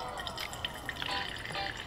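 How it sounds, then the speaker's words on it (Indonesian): Plain tap water poured over a paper filter in a Kalita coffee dripper, a steady close trickle and splash of liquid filling the cone, heard alone. "kalian tuang air biasa dulu, nggak usah air panas, sampai lumayan penuh"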